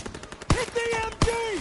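MG machine gun fire in Call of Duty WW2, two sharp bursts close together, each followed by a ringing tonal tail, with a voice talking over the game sounds.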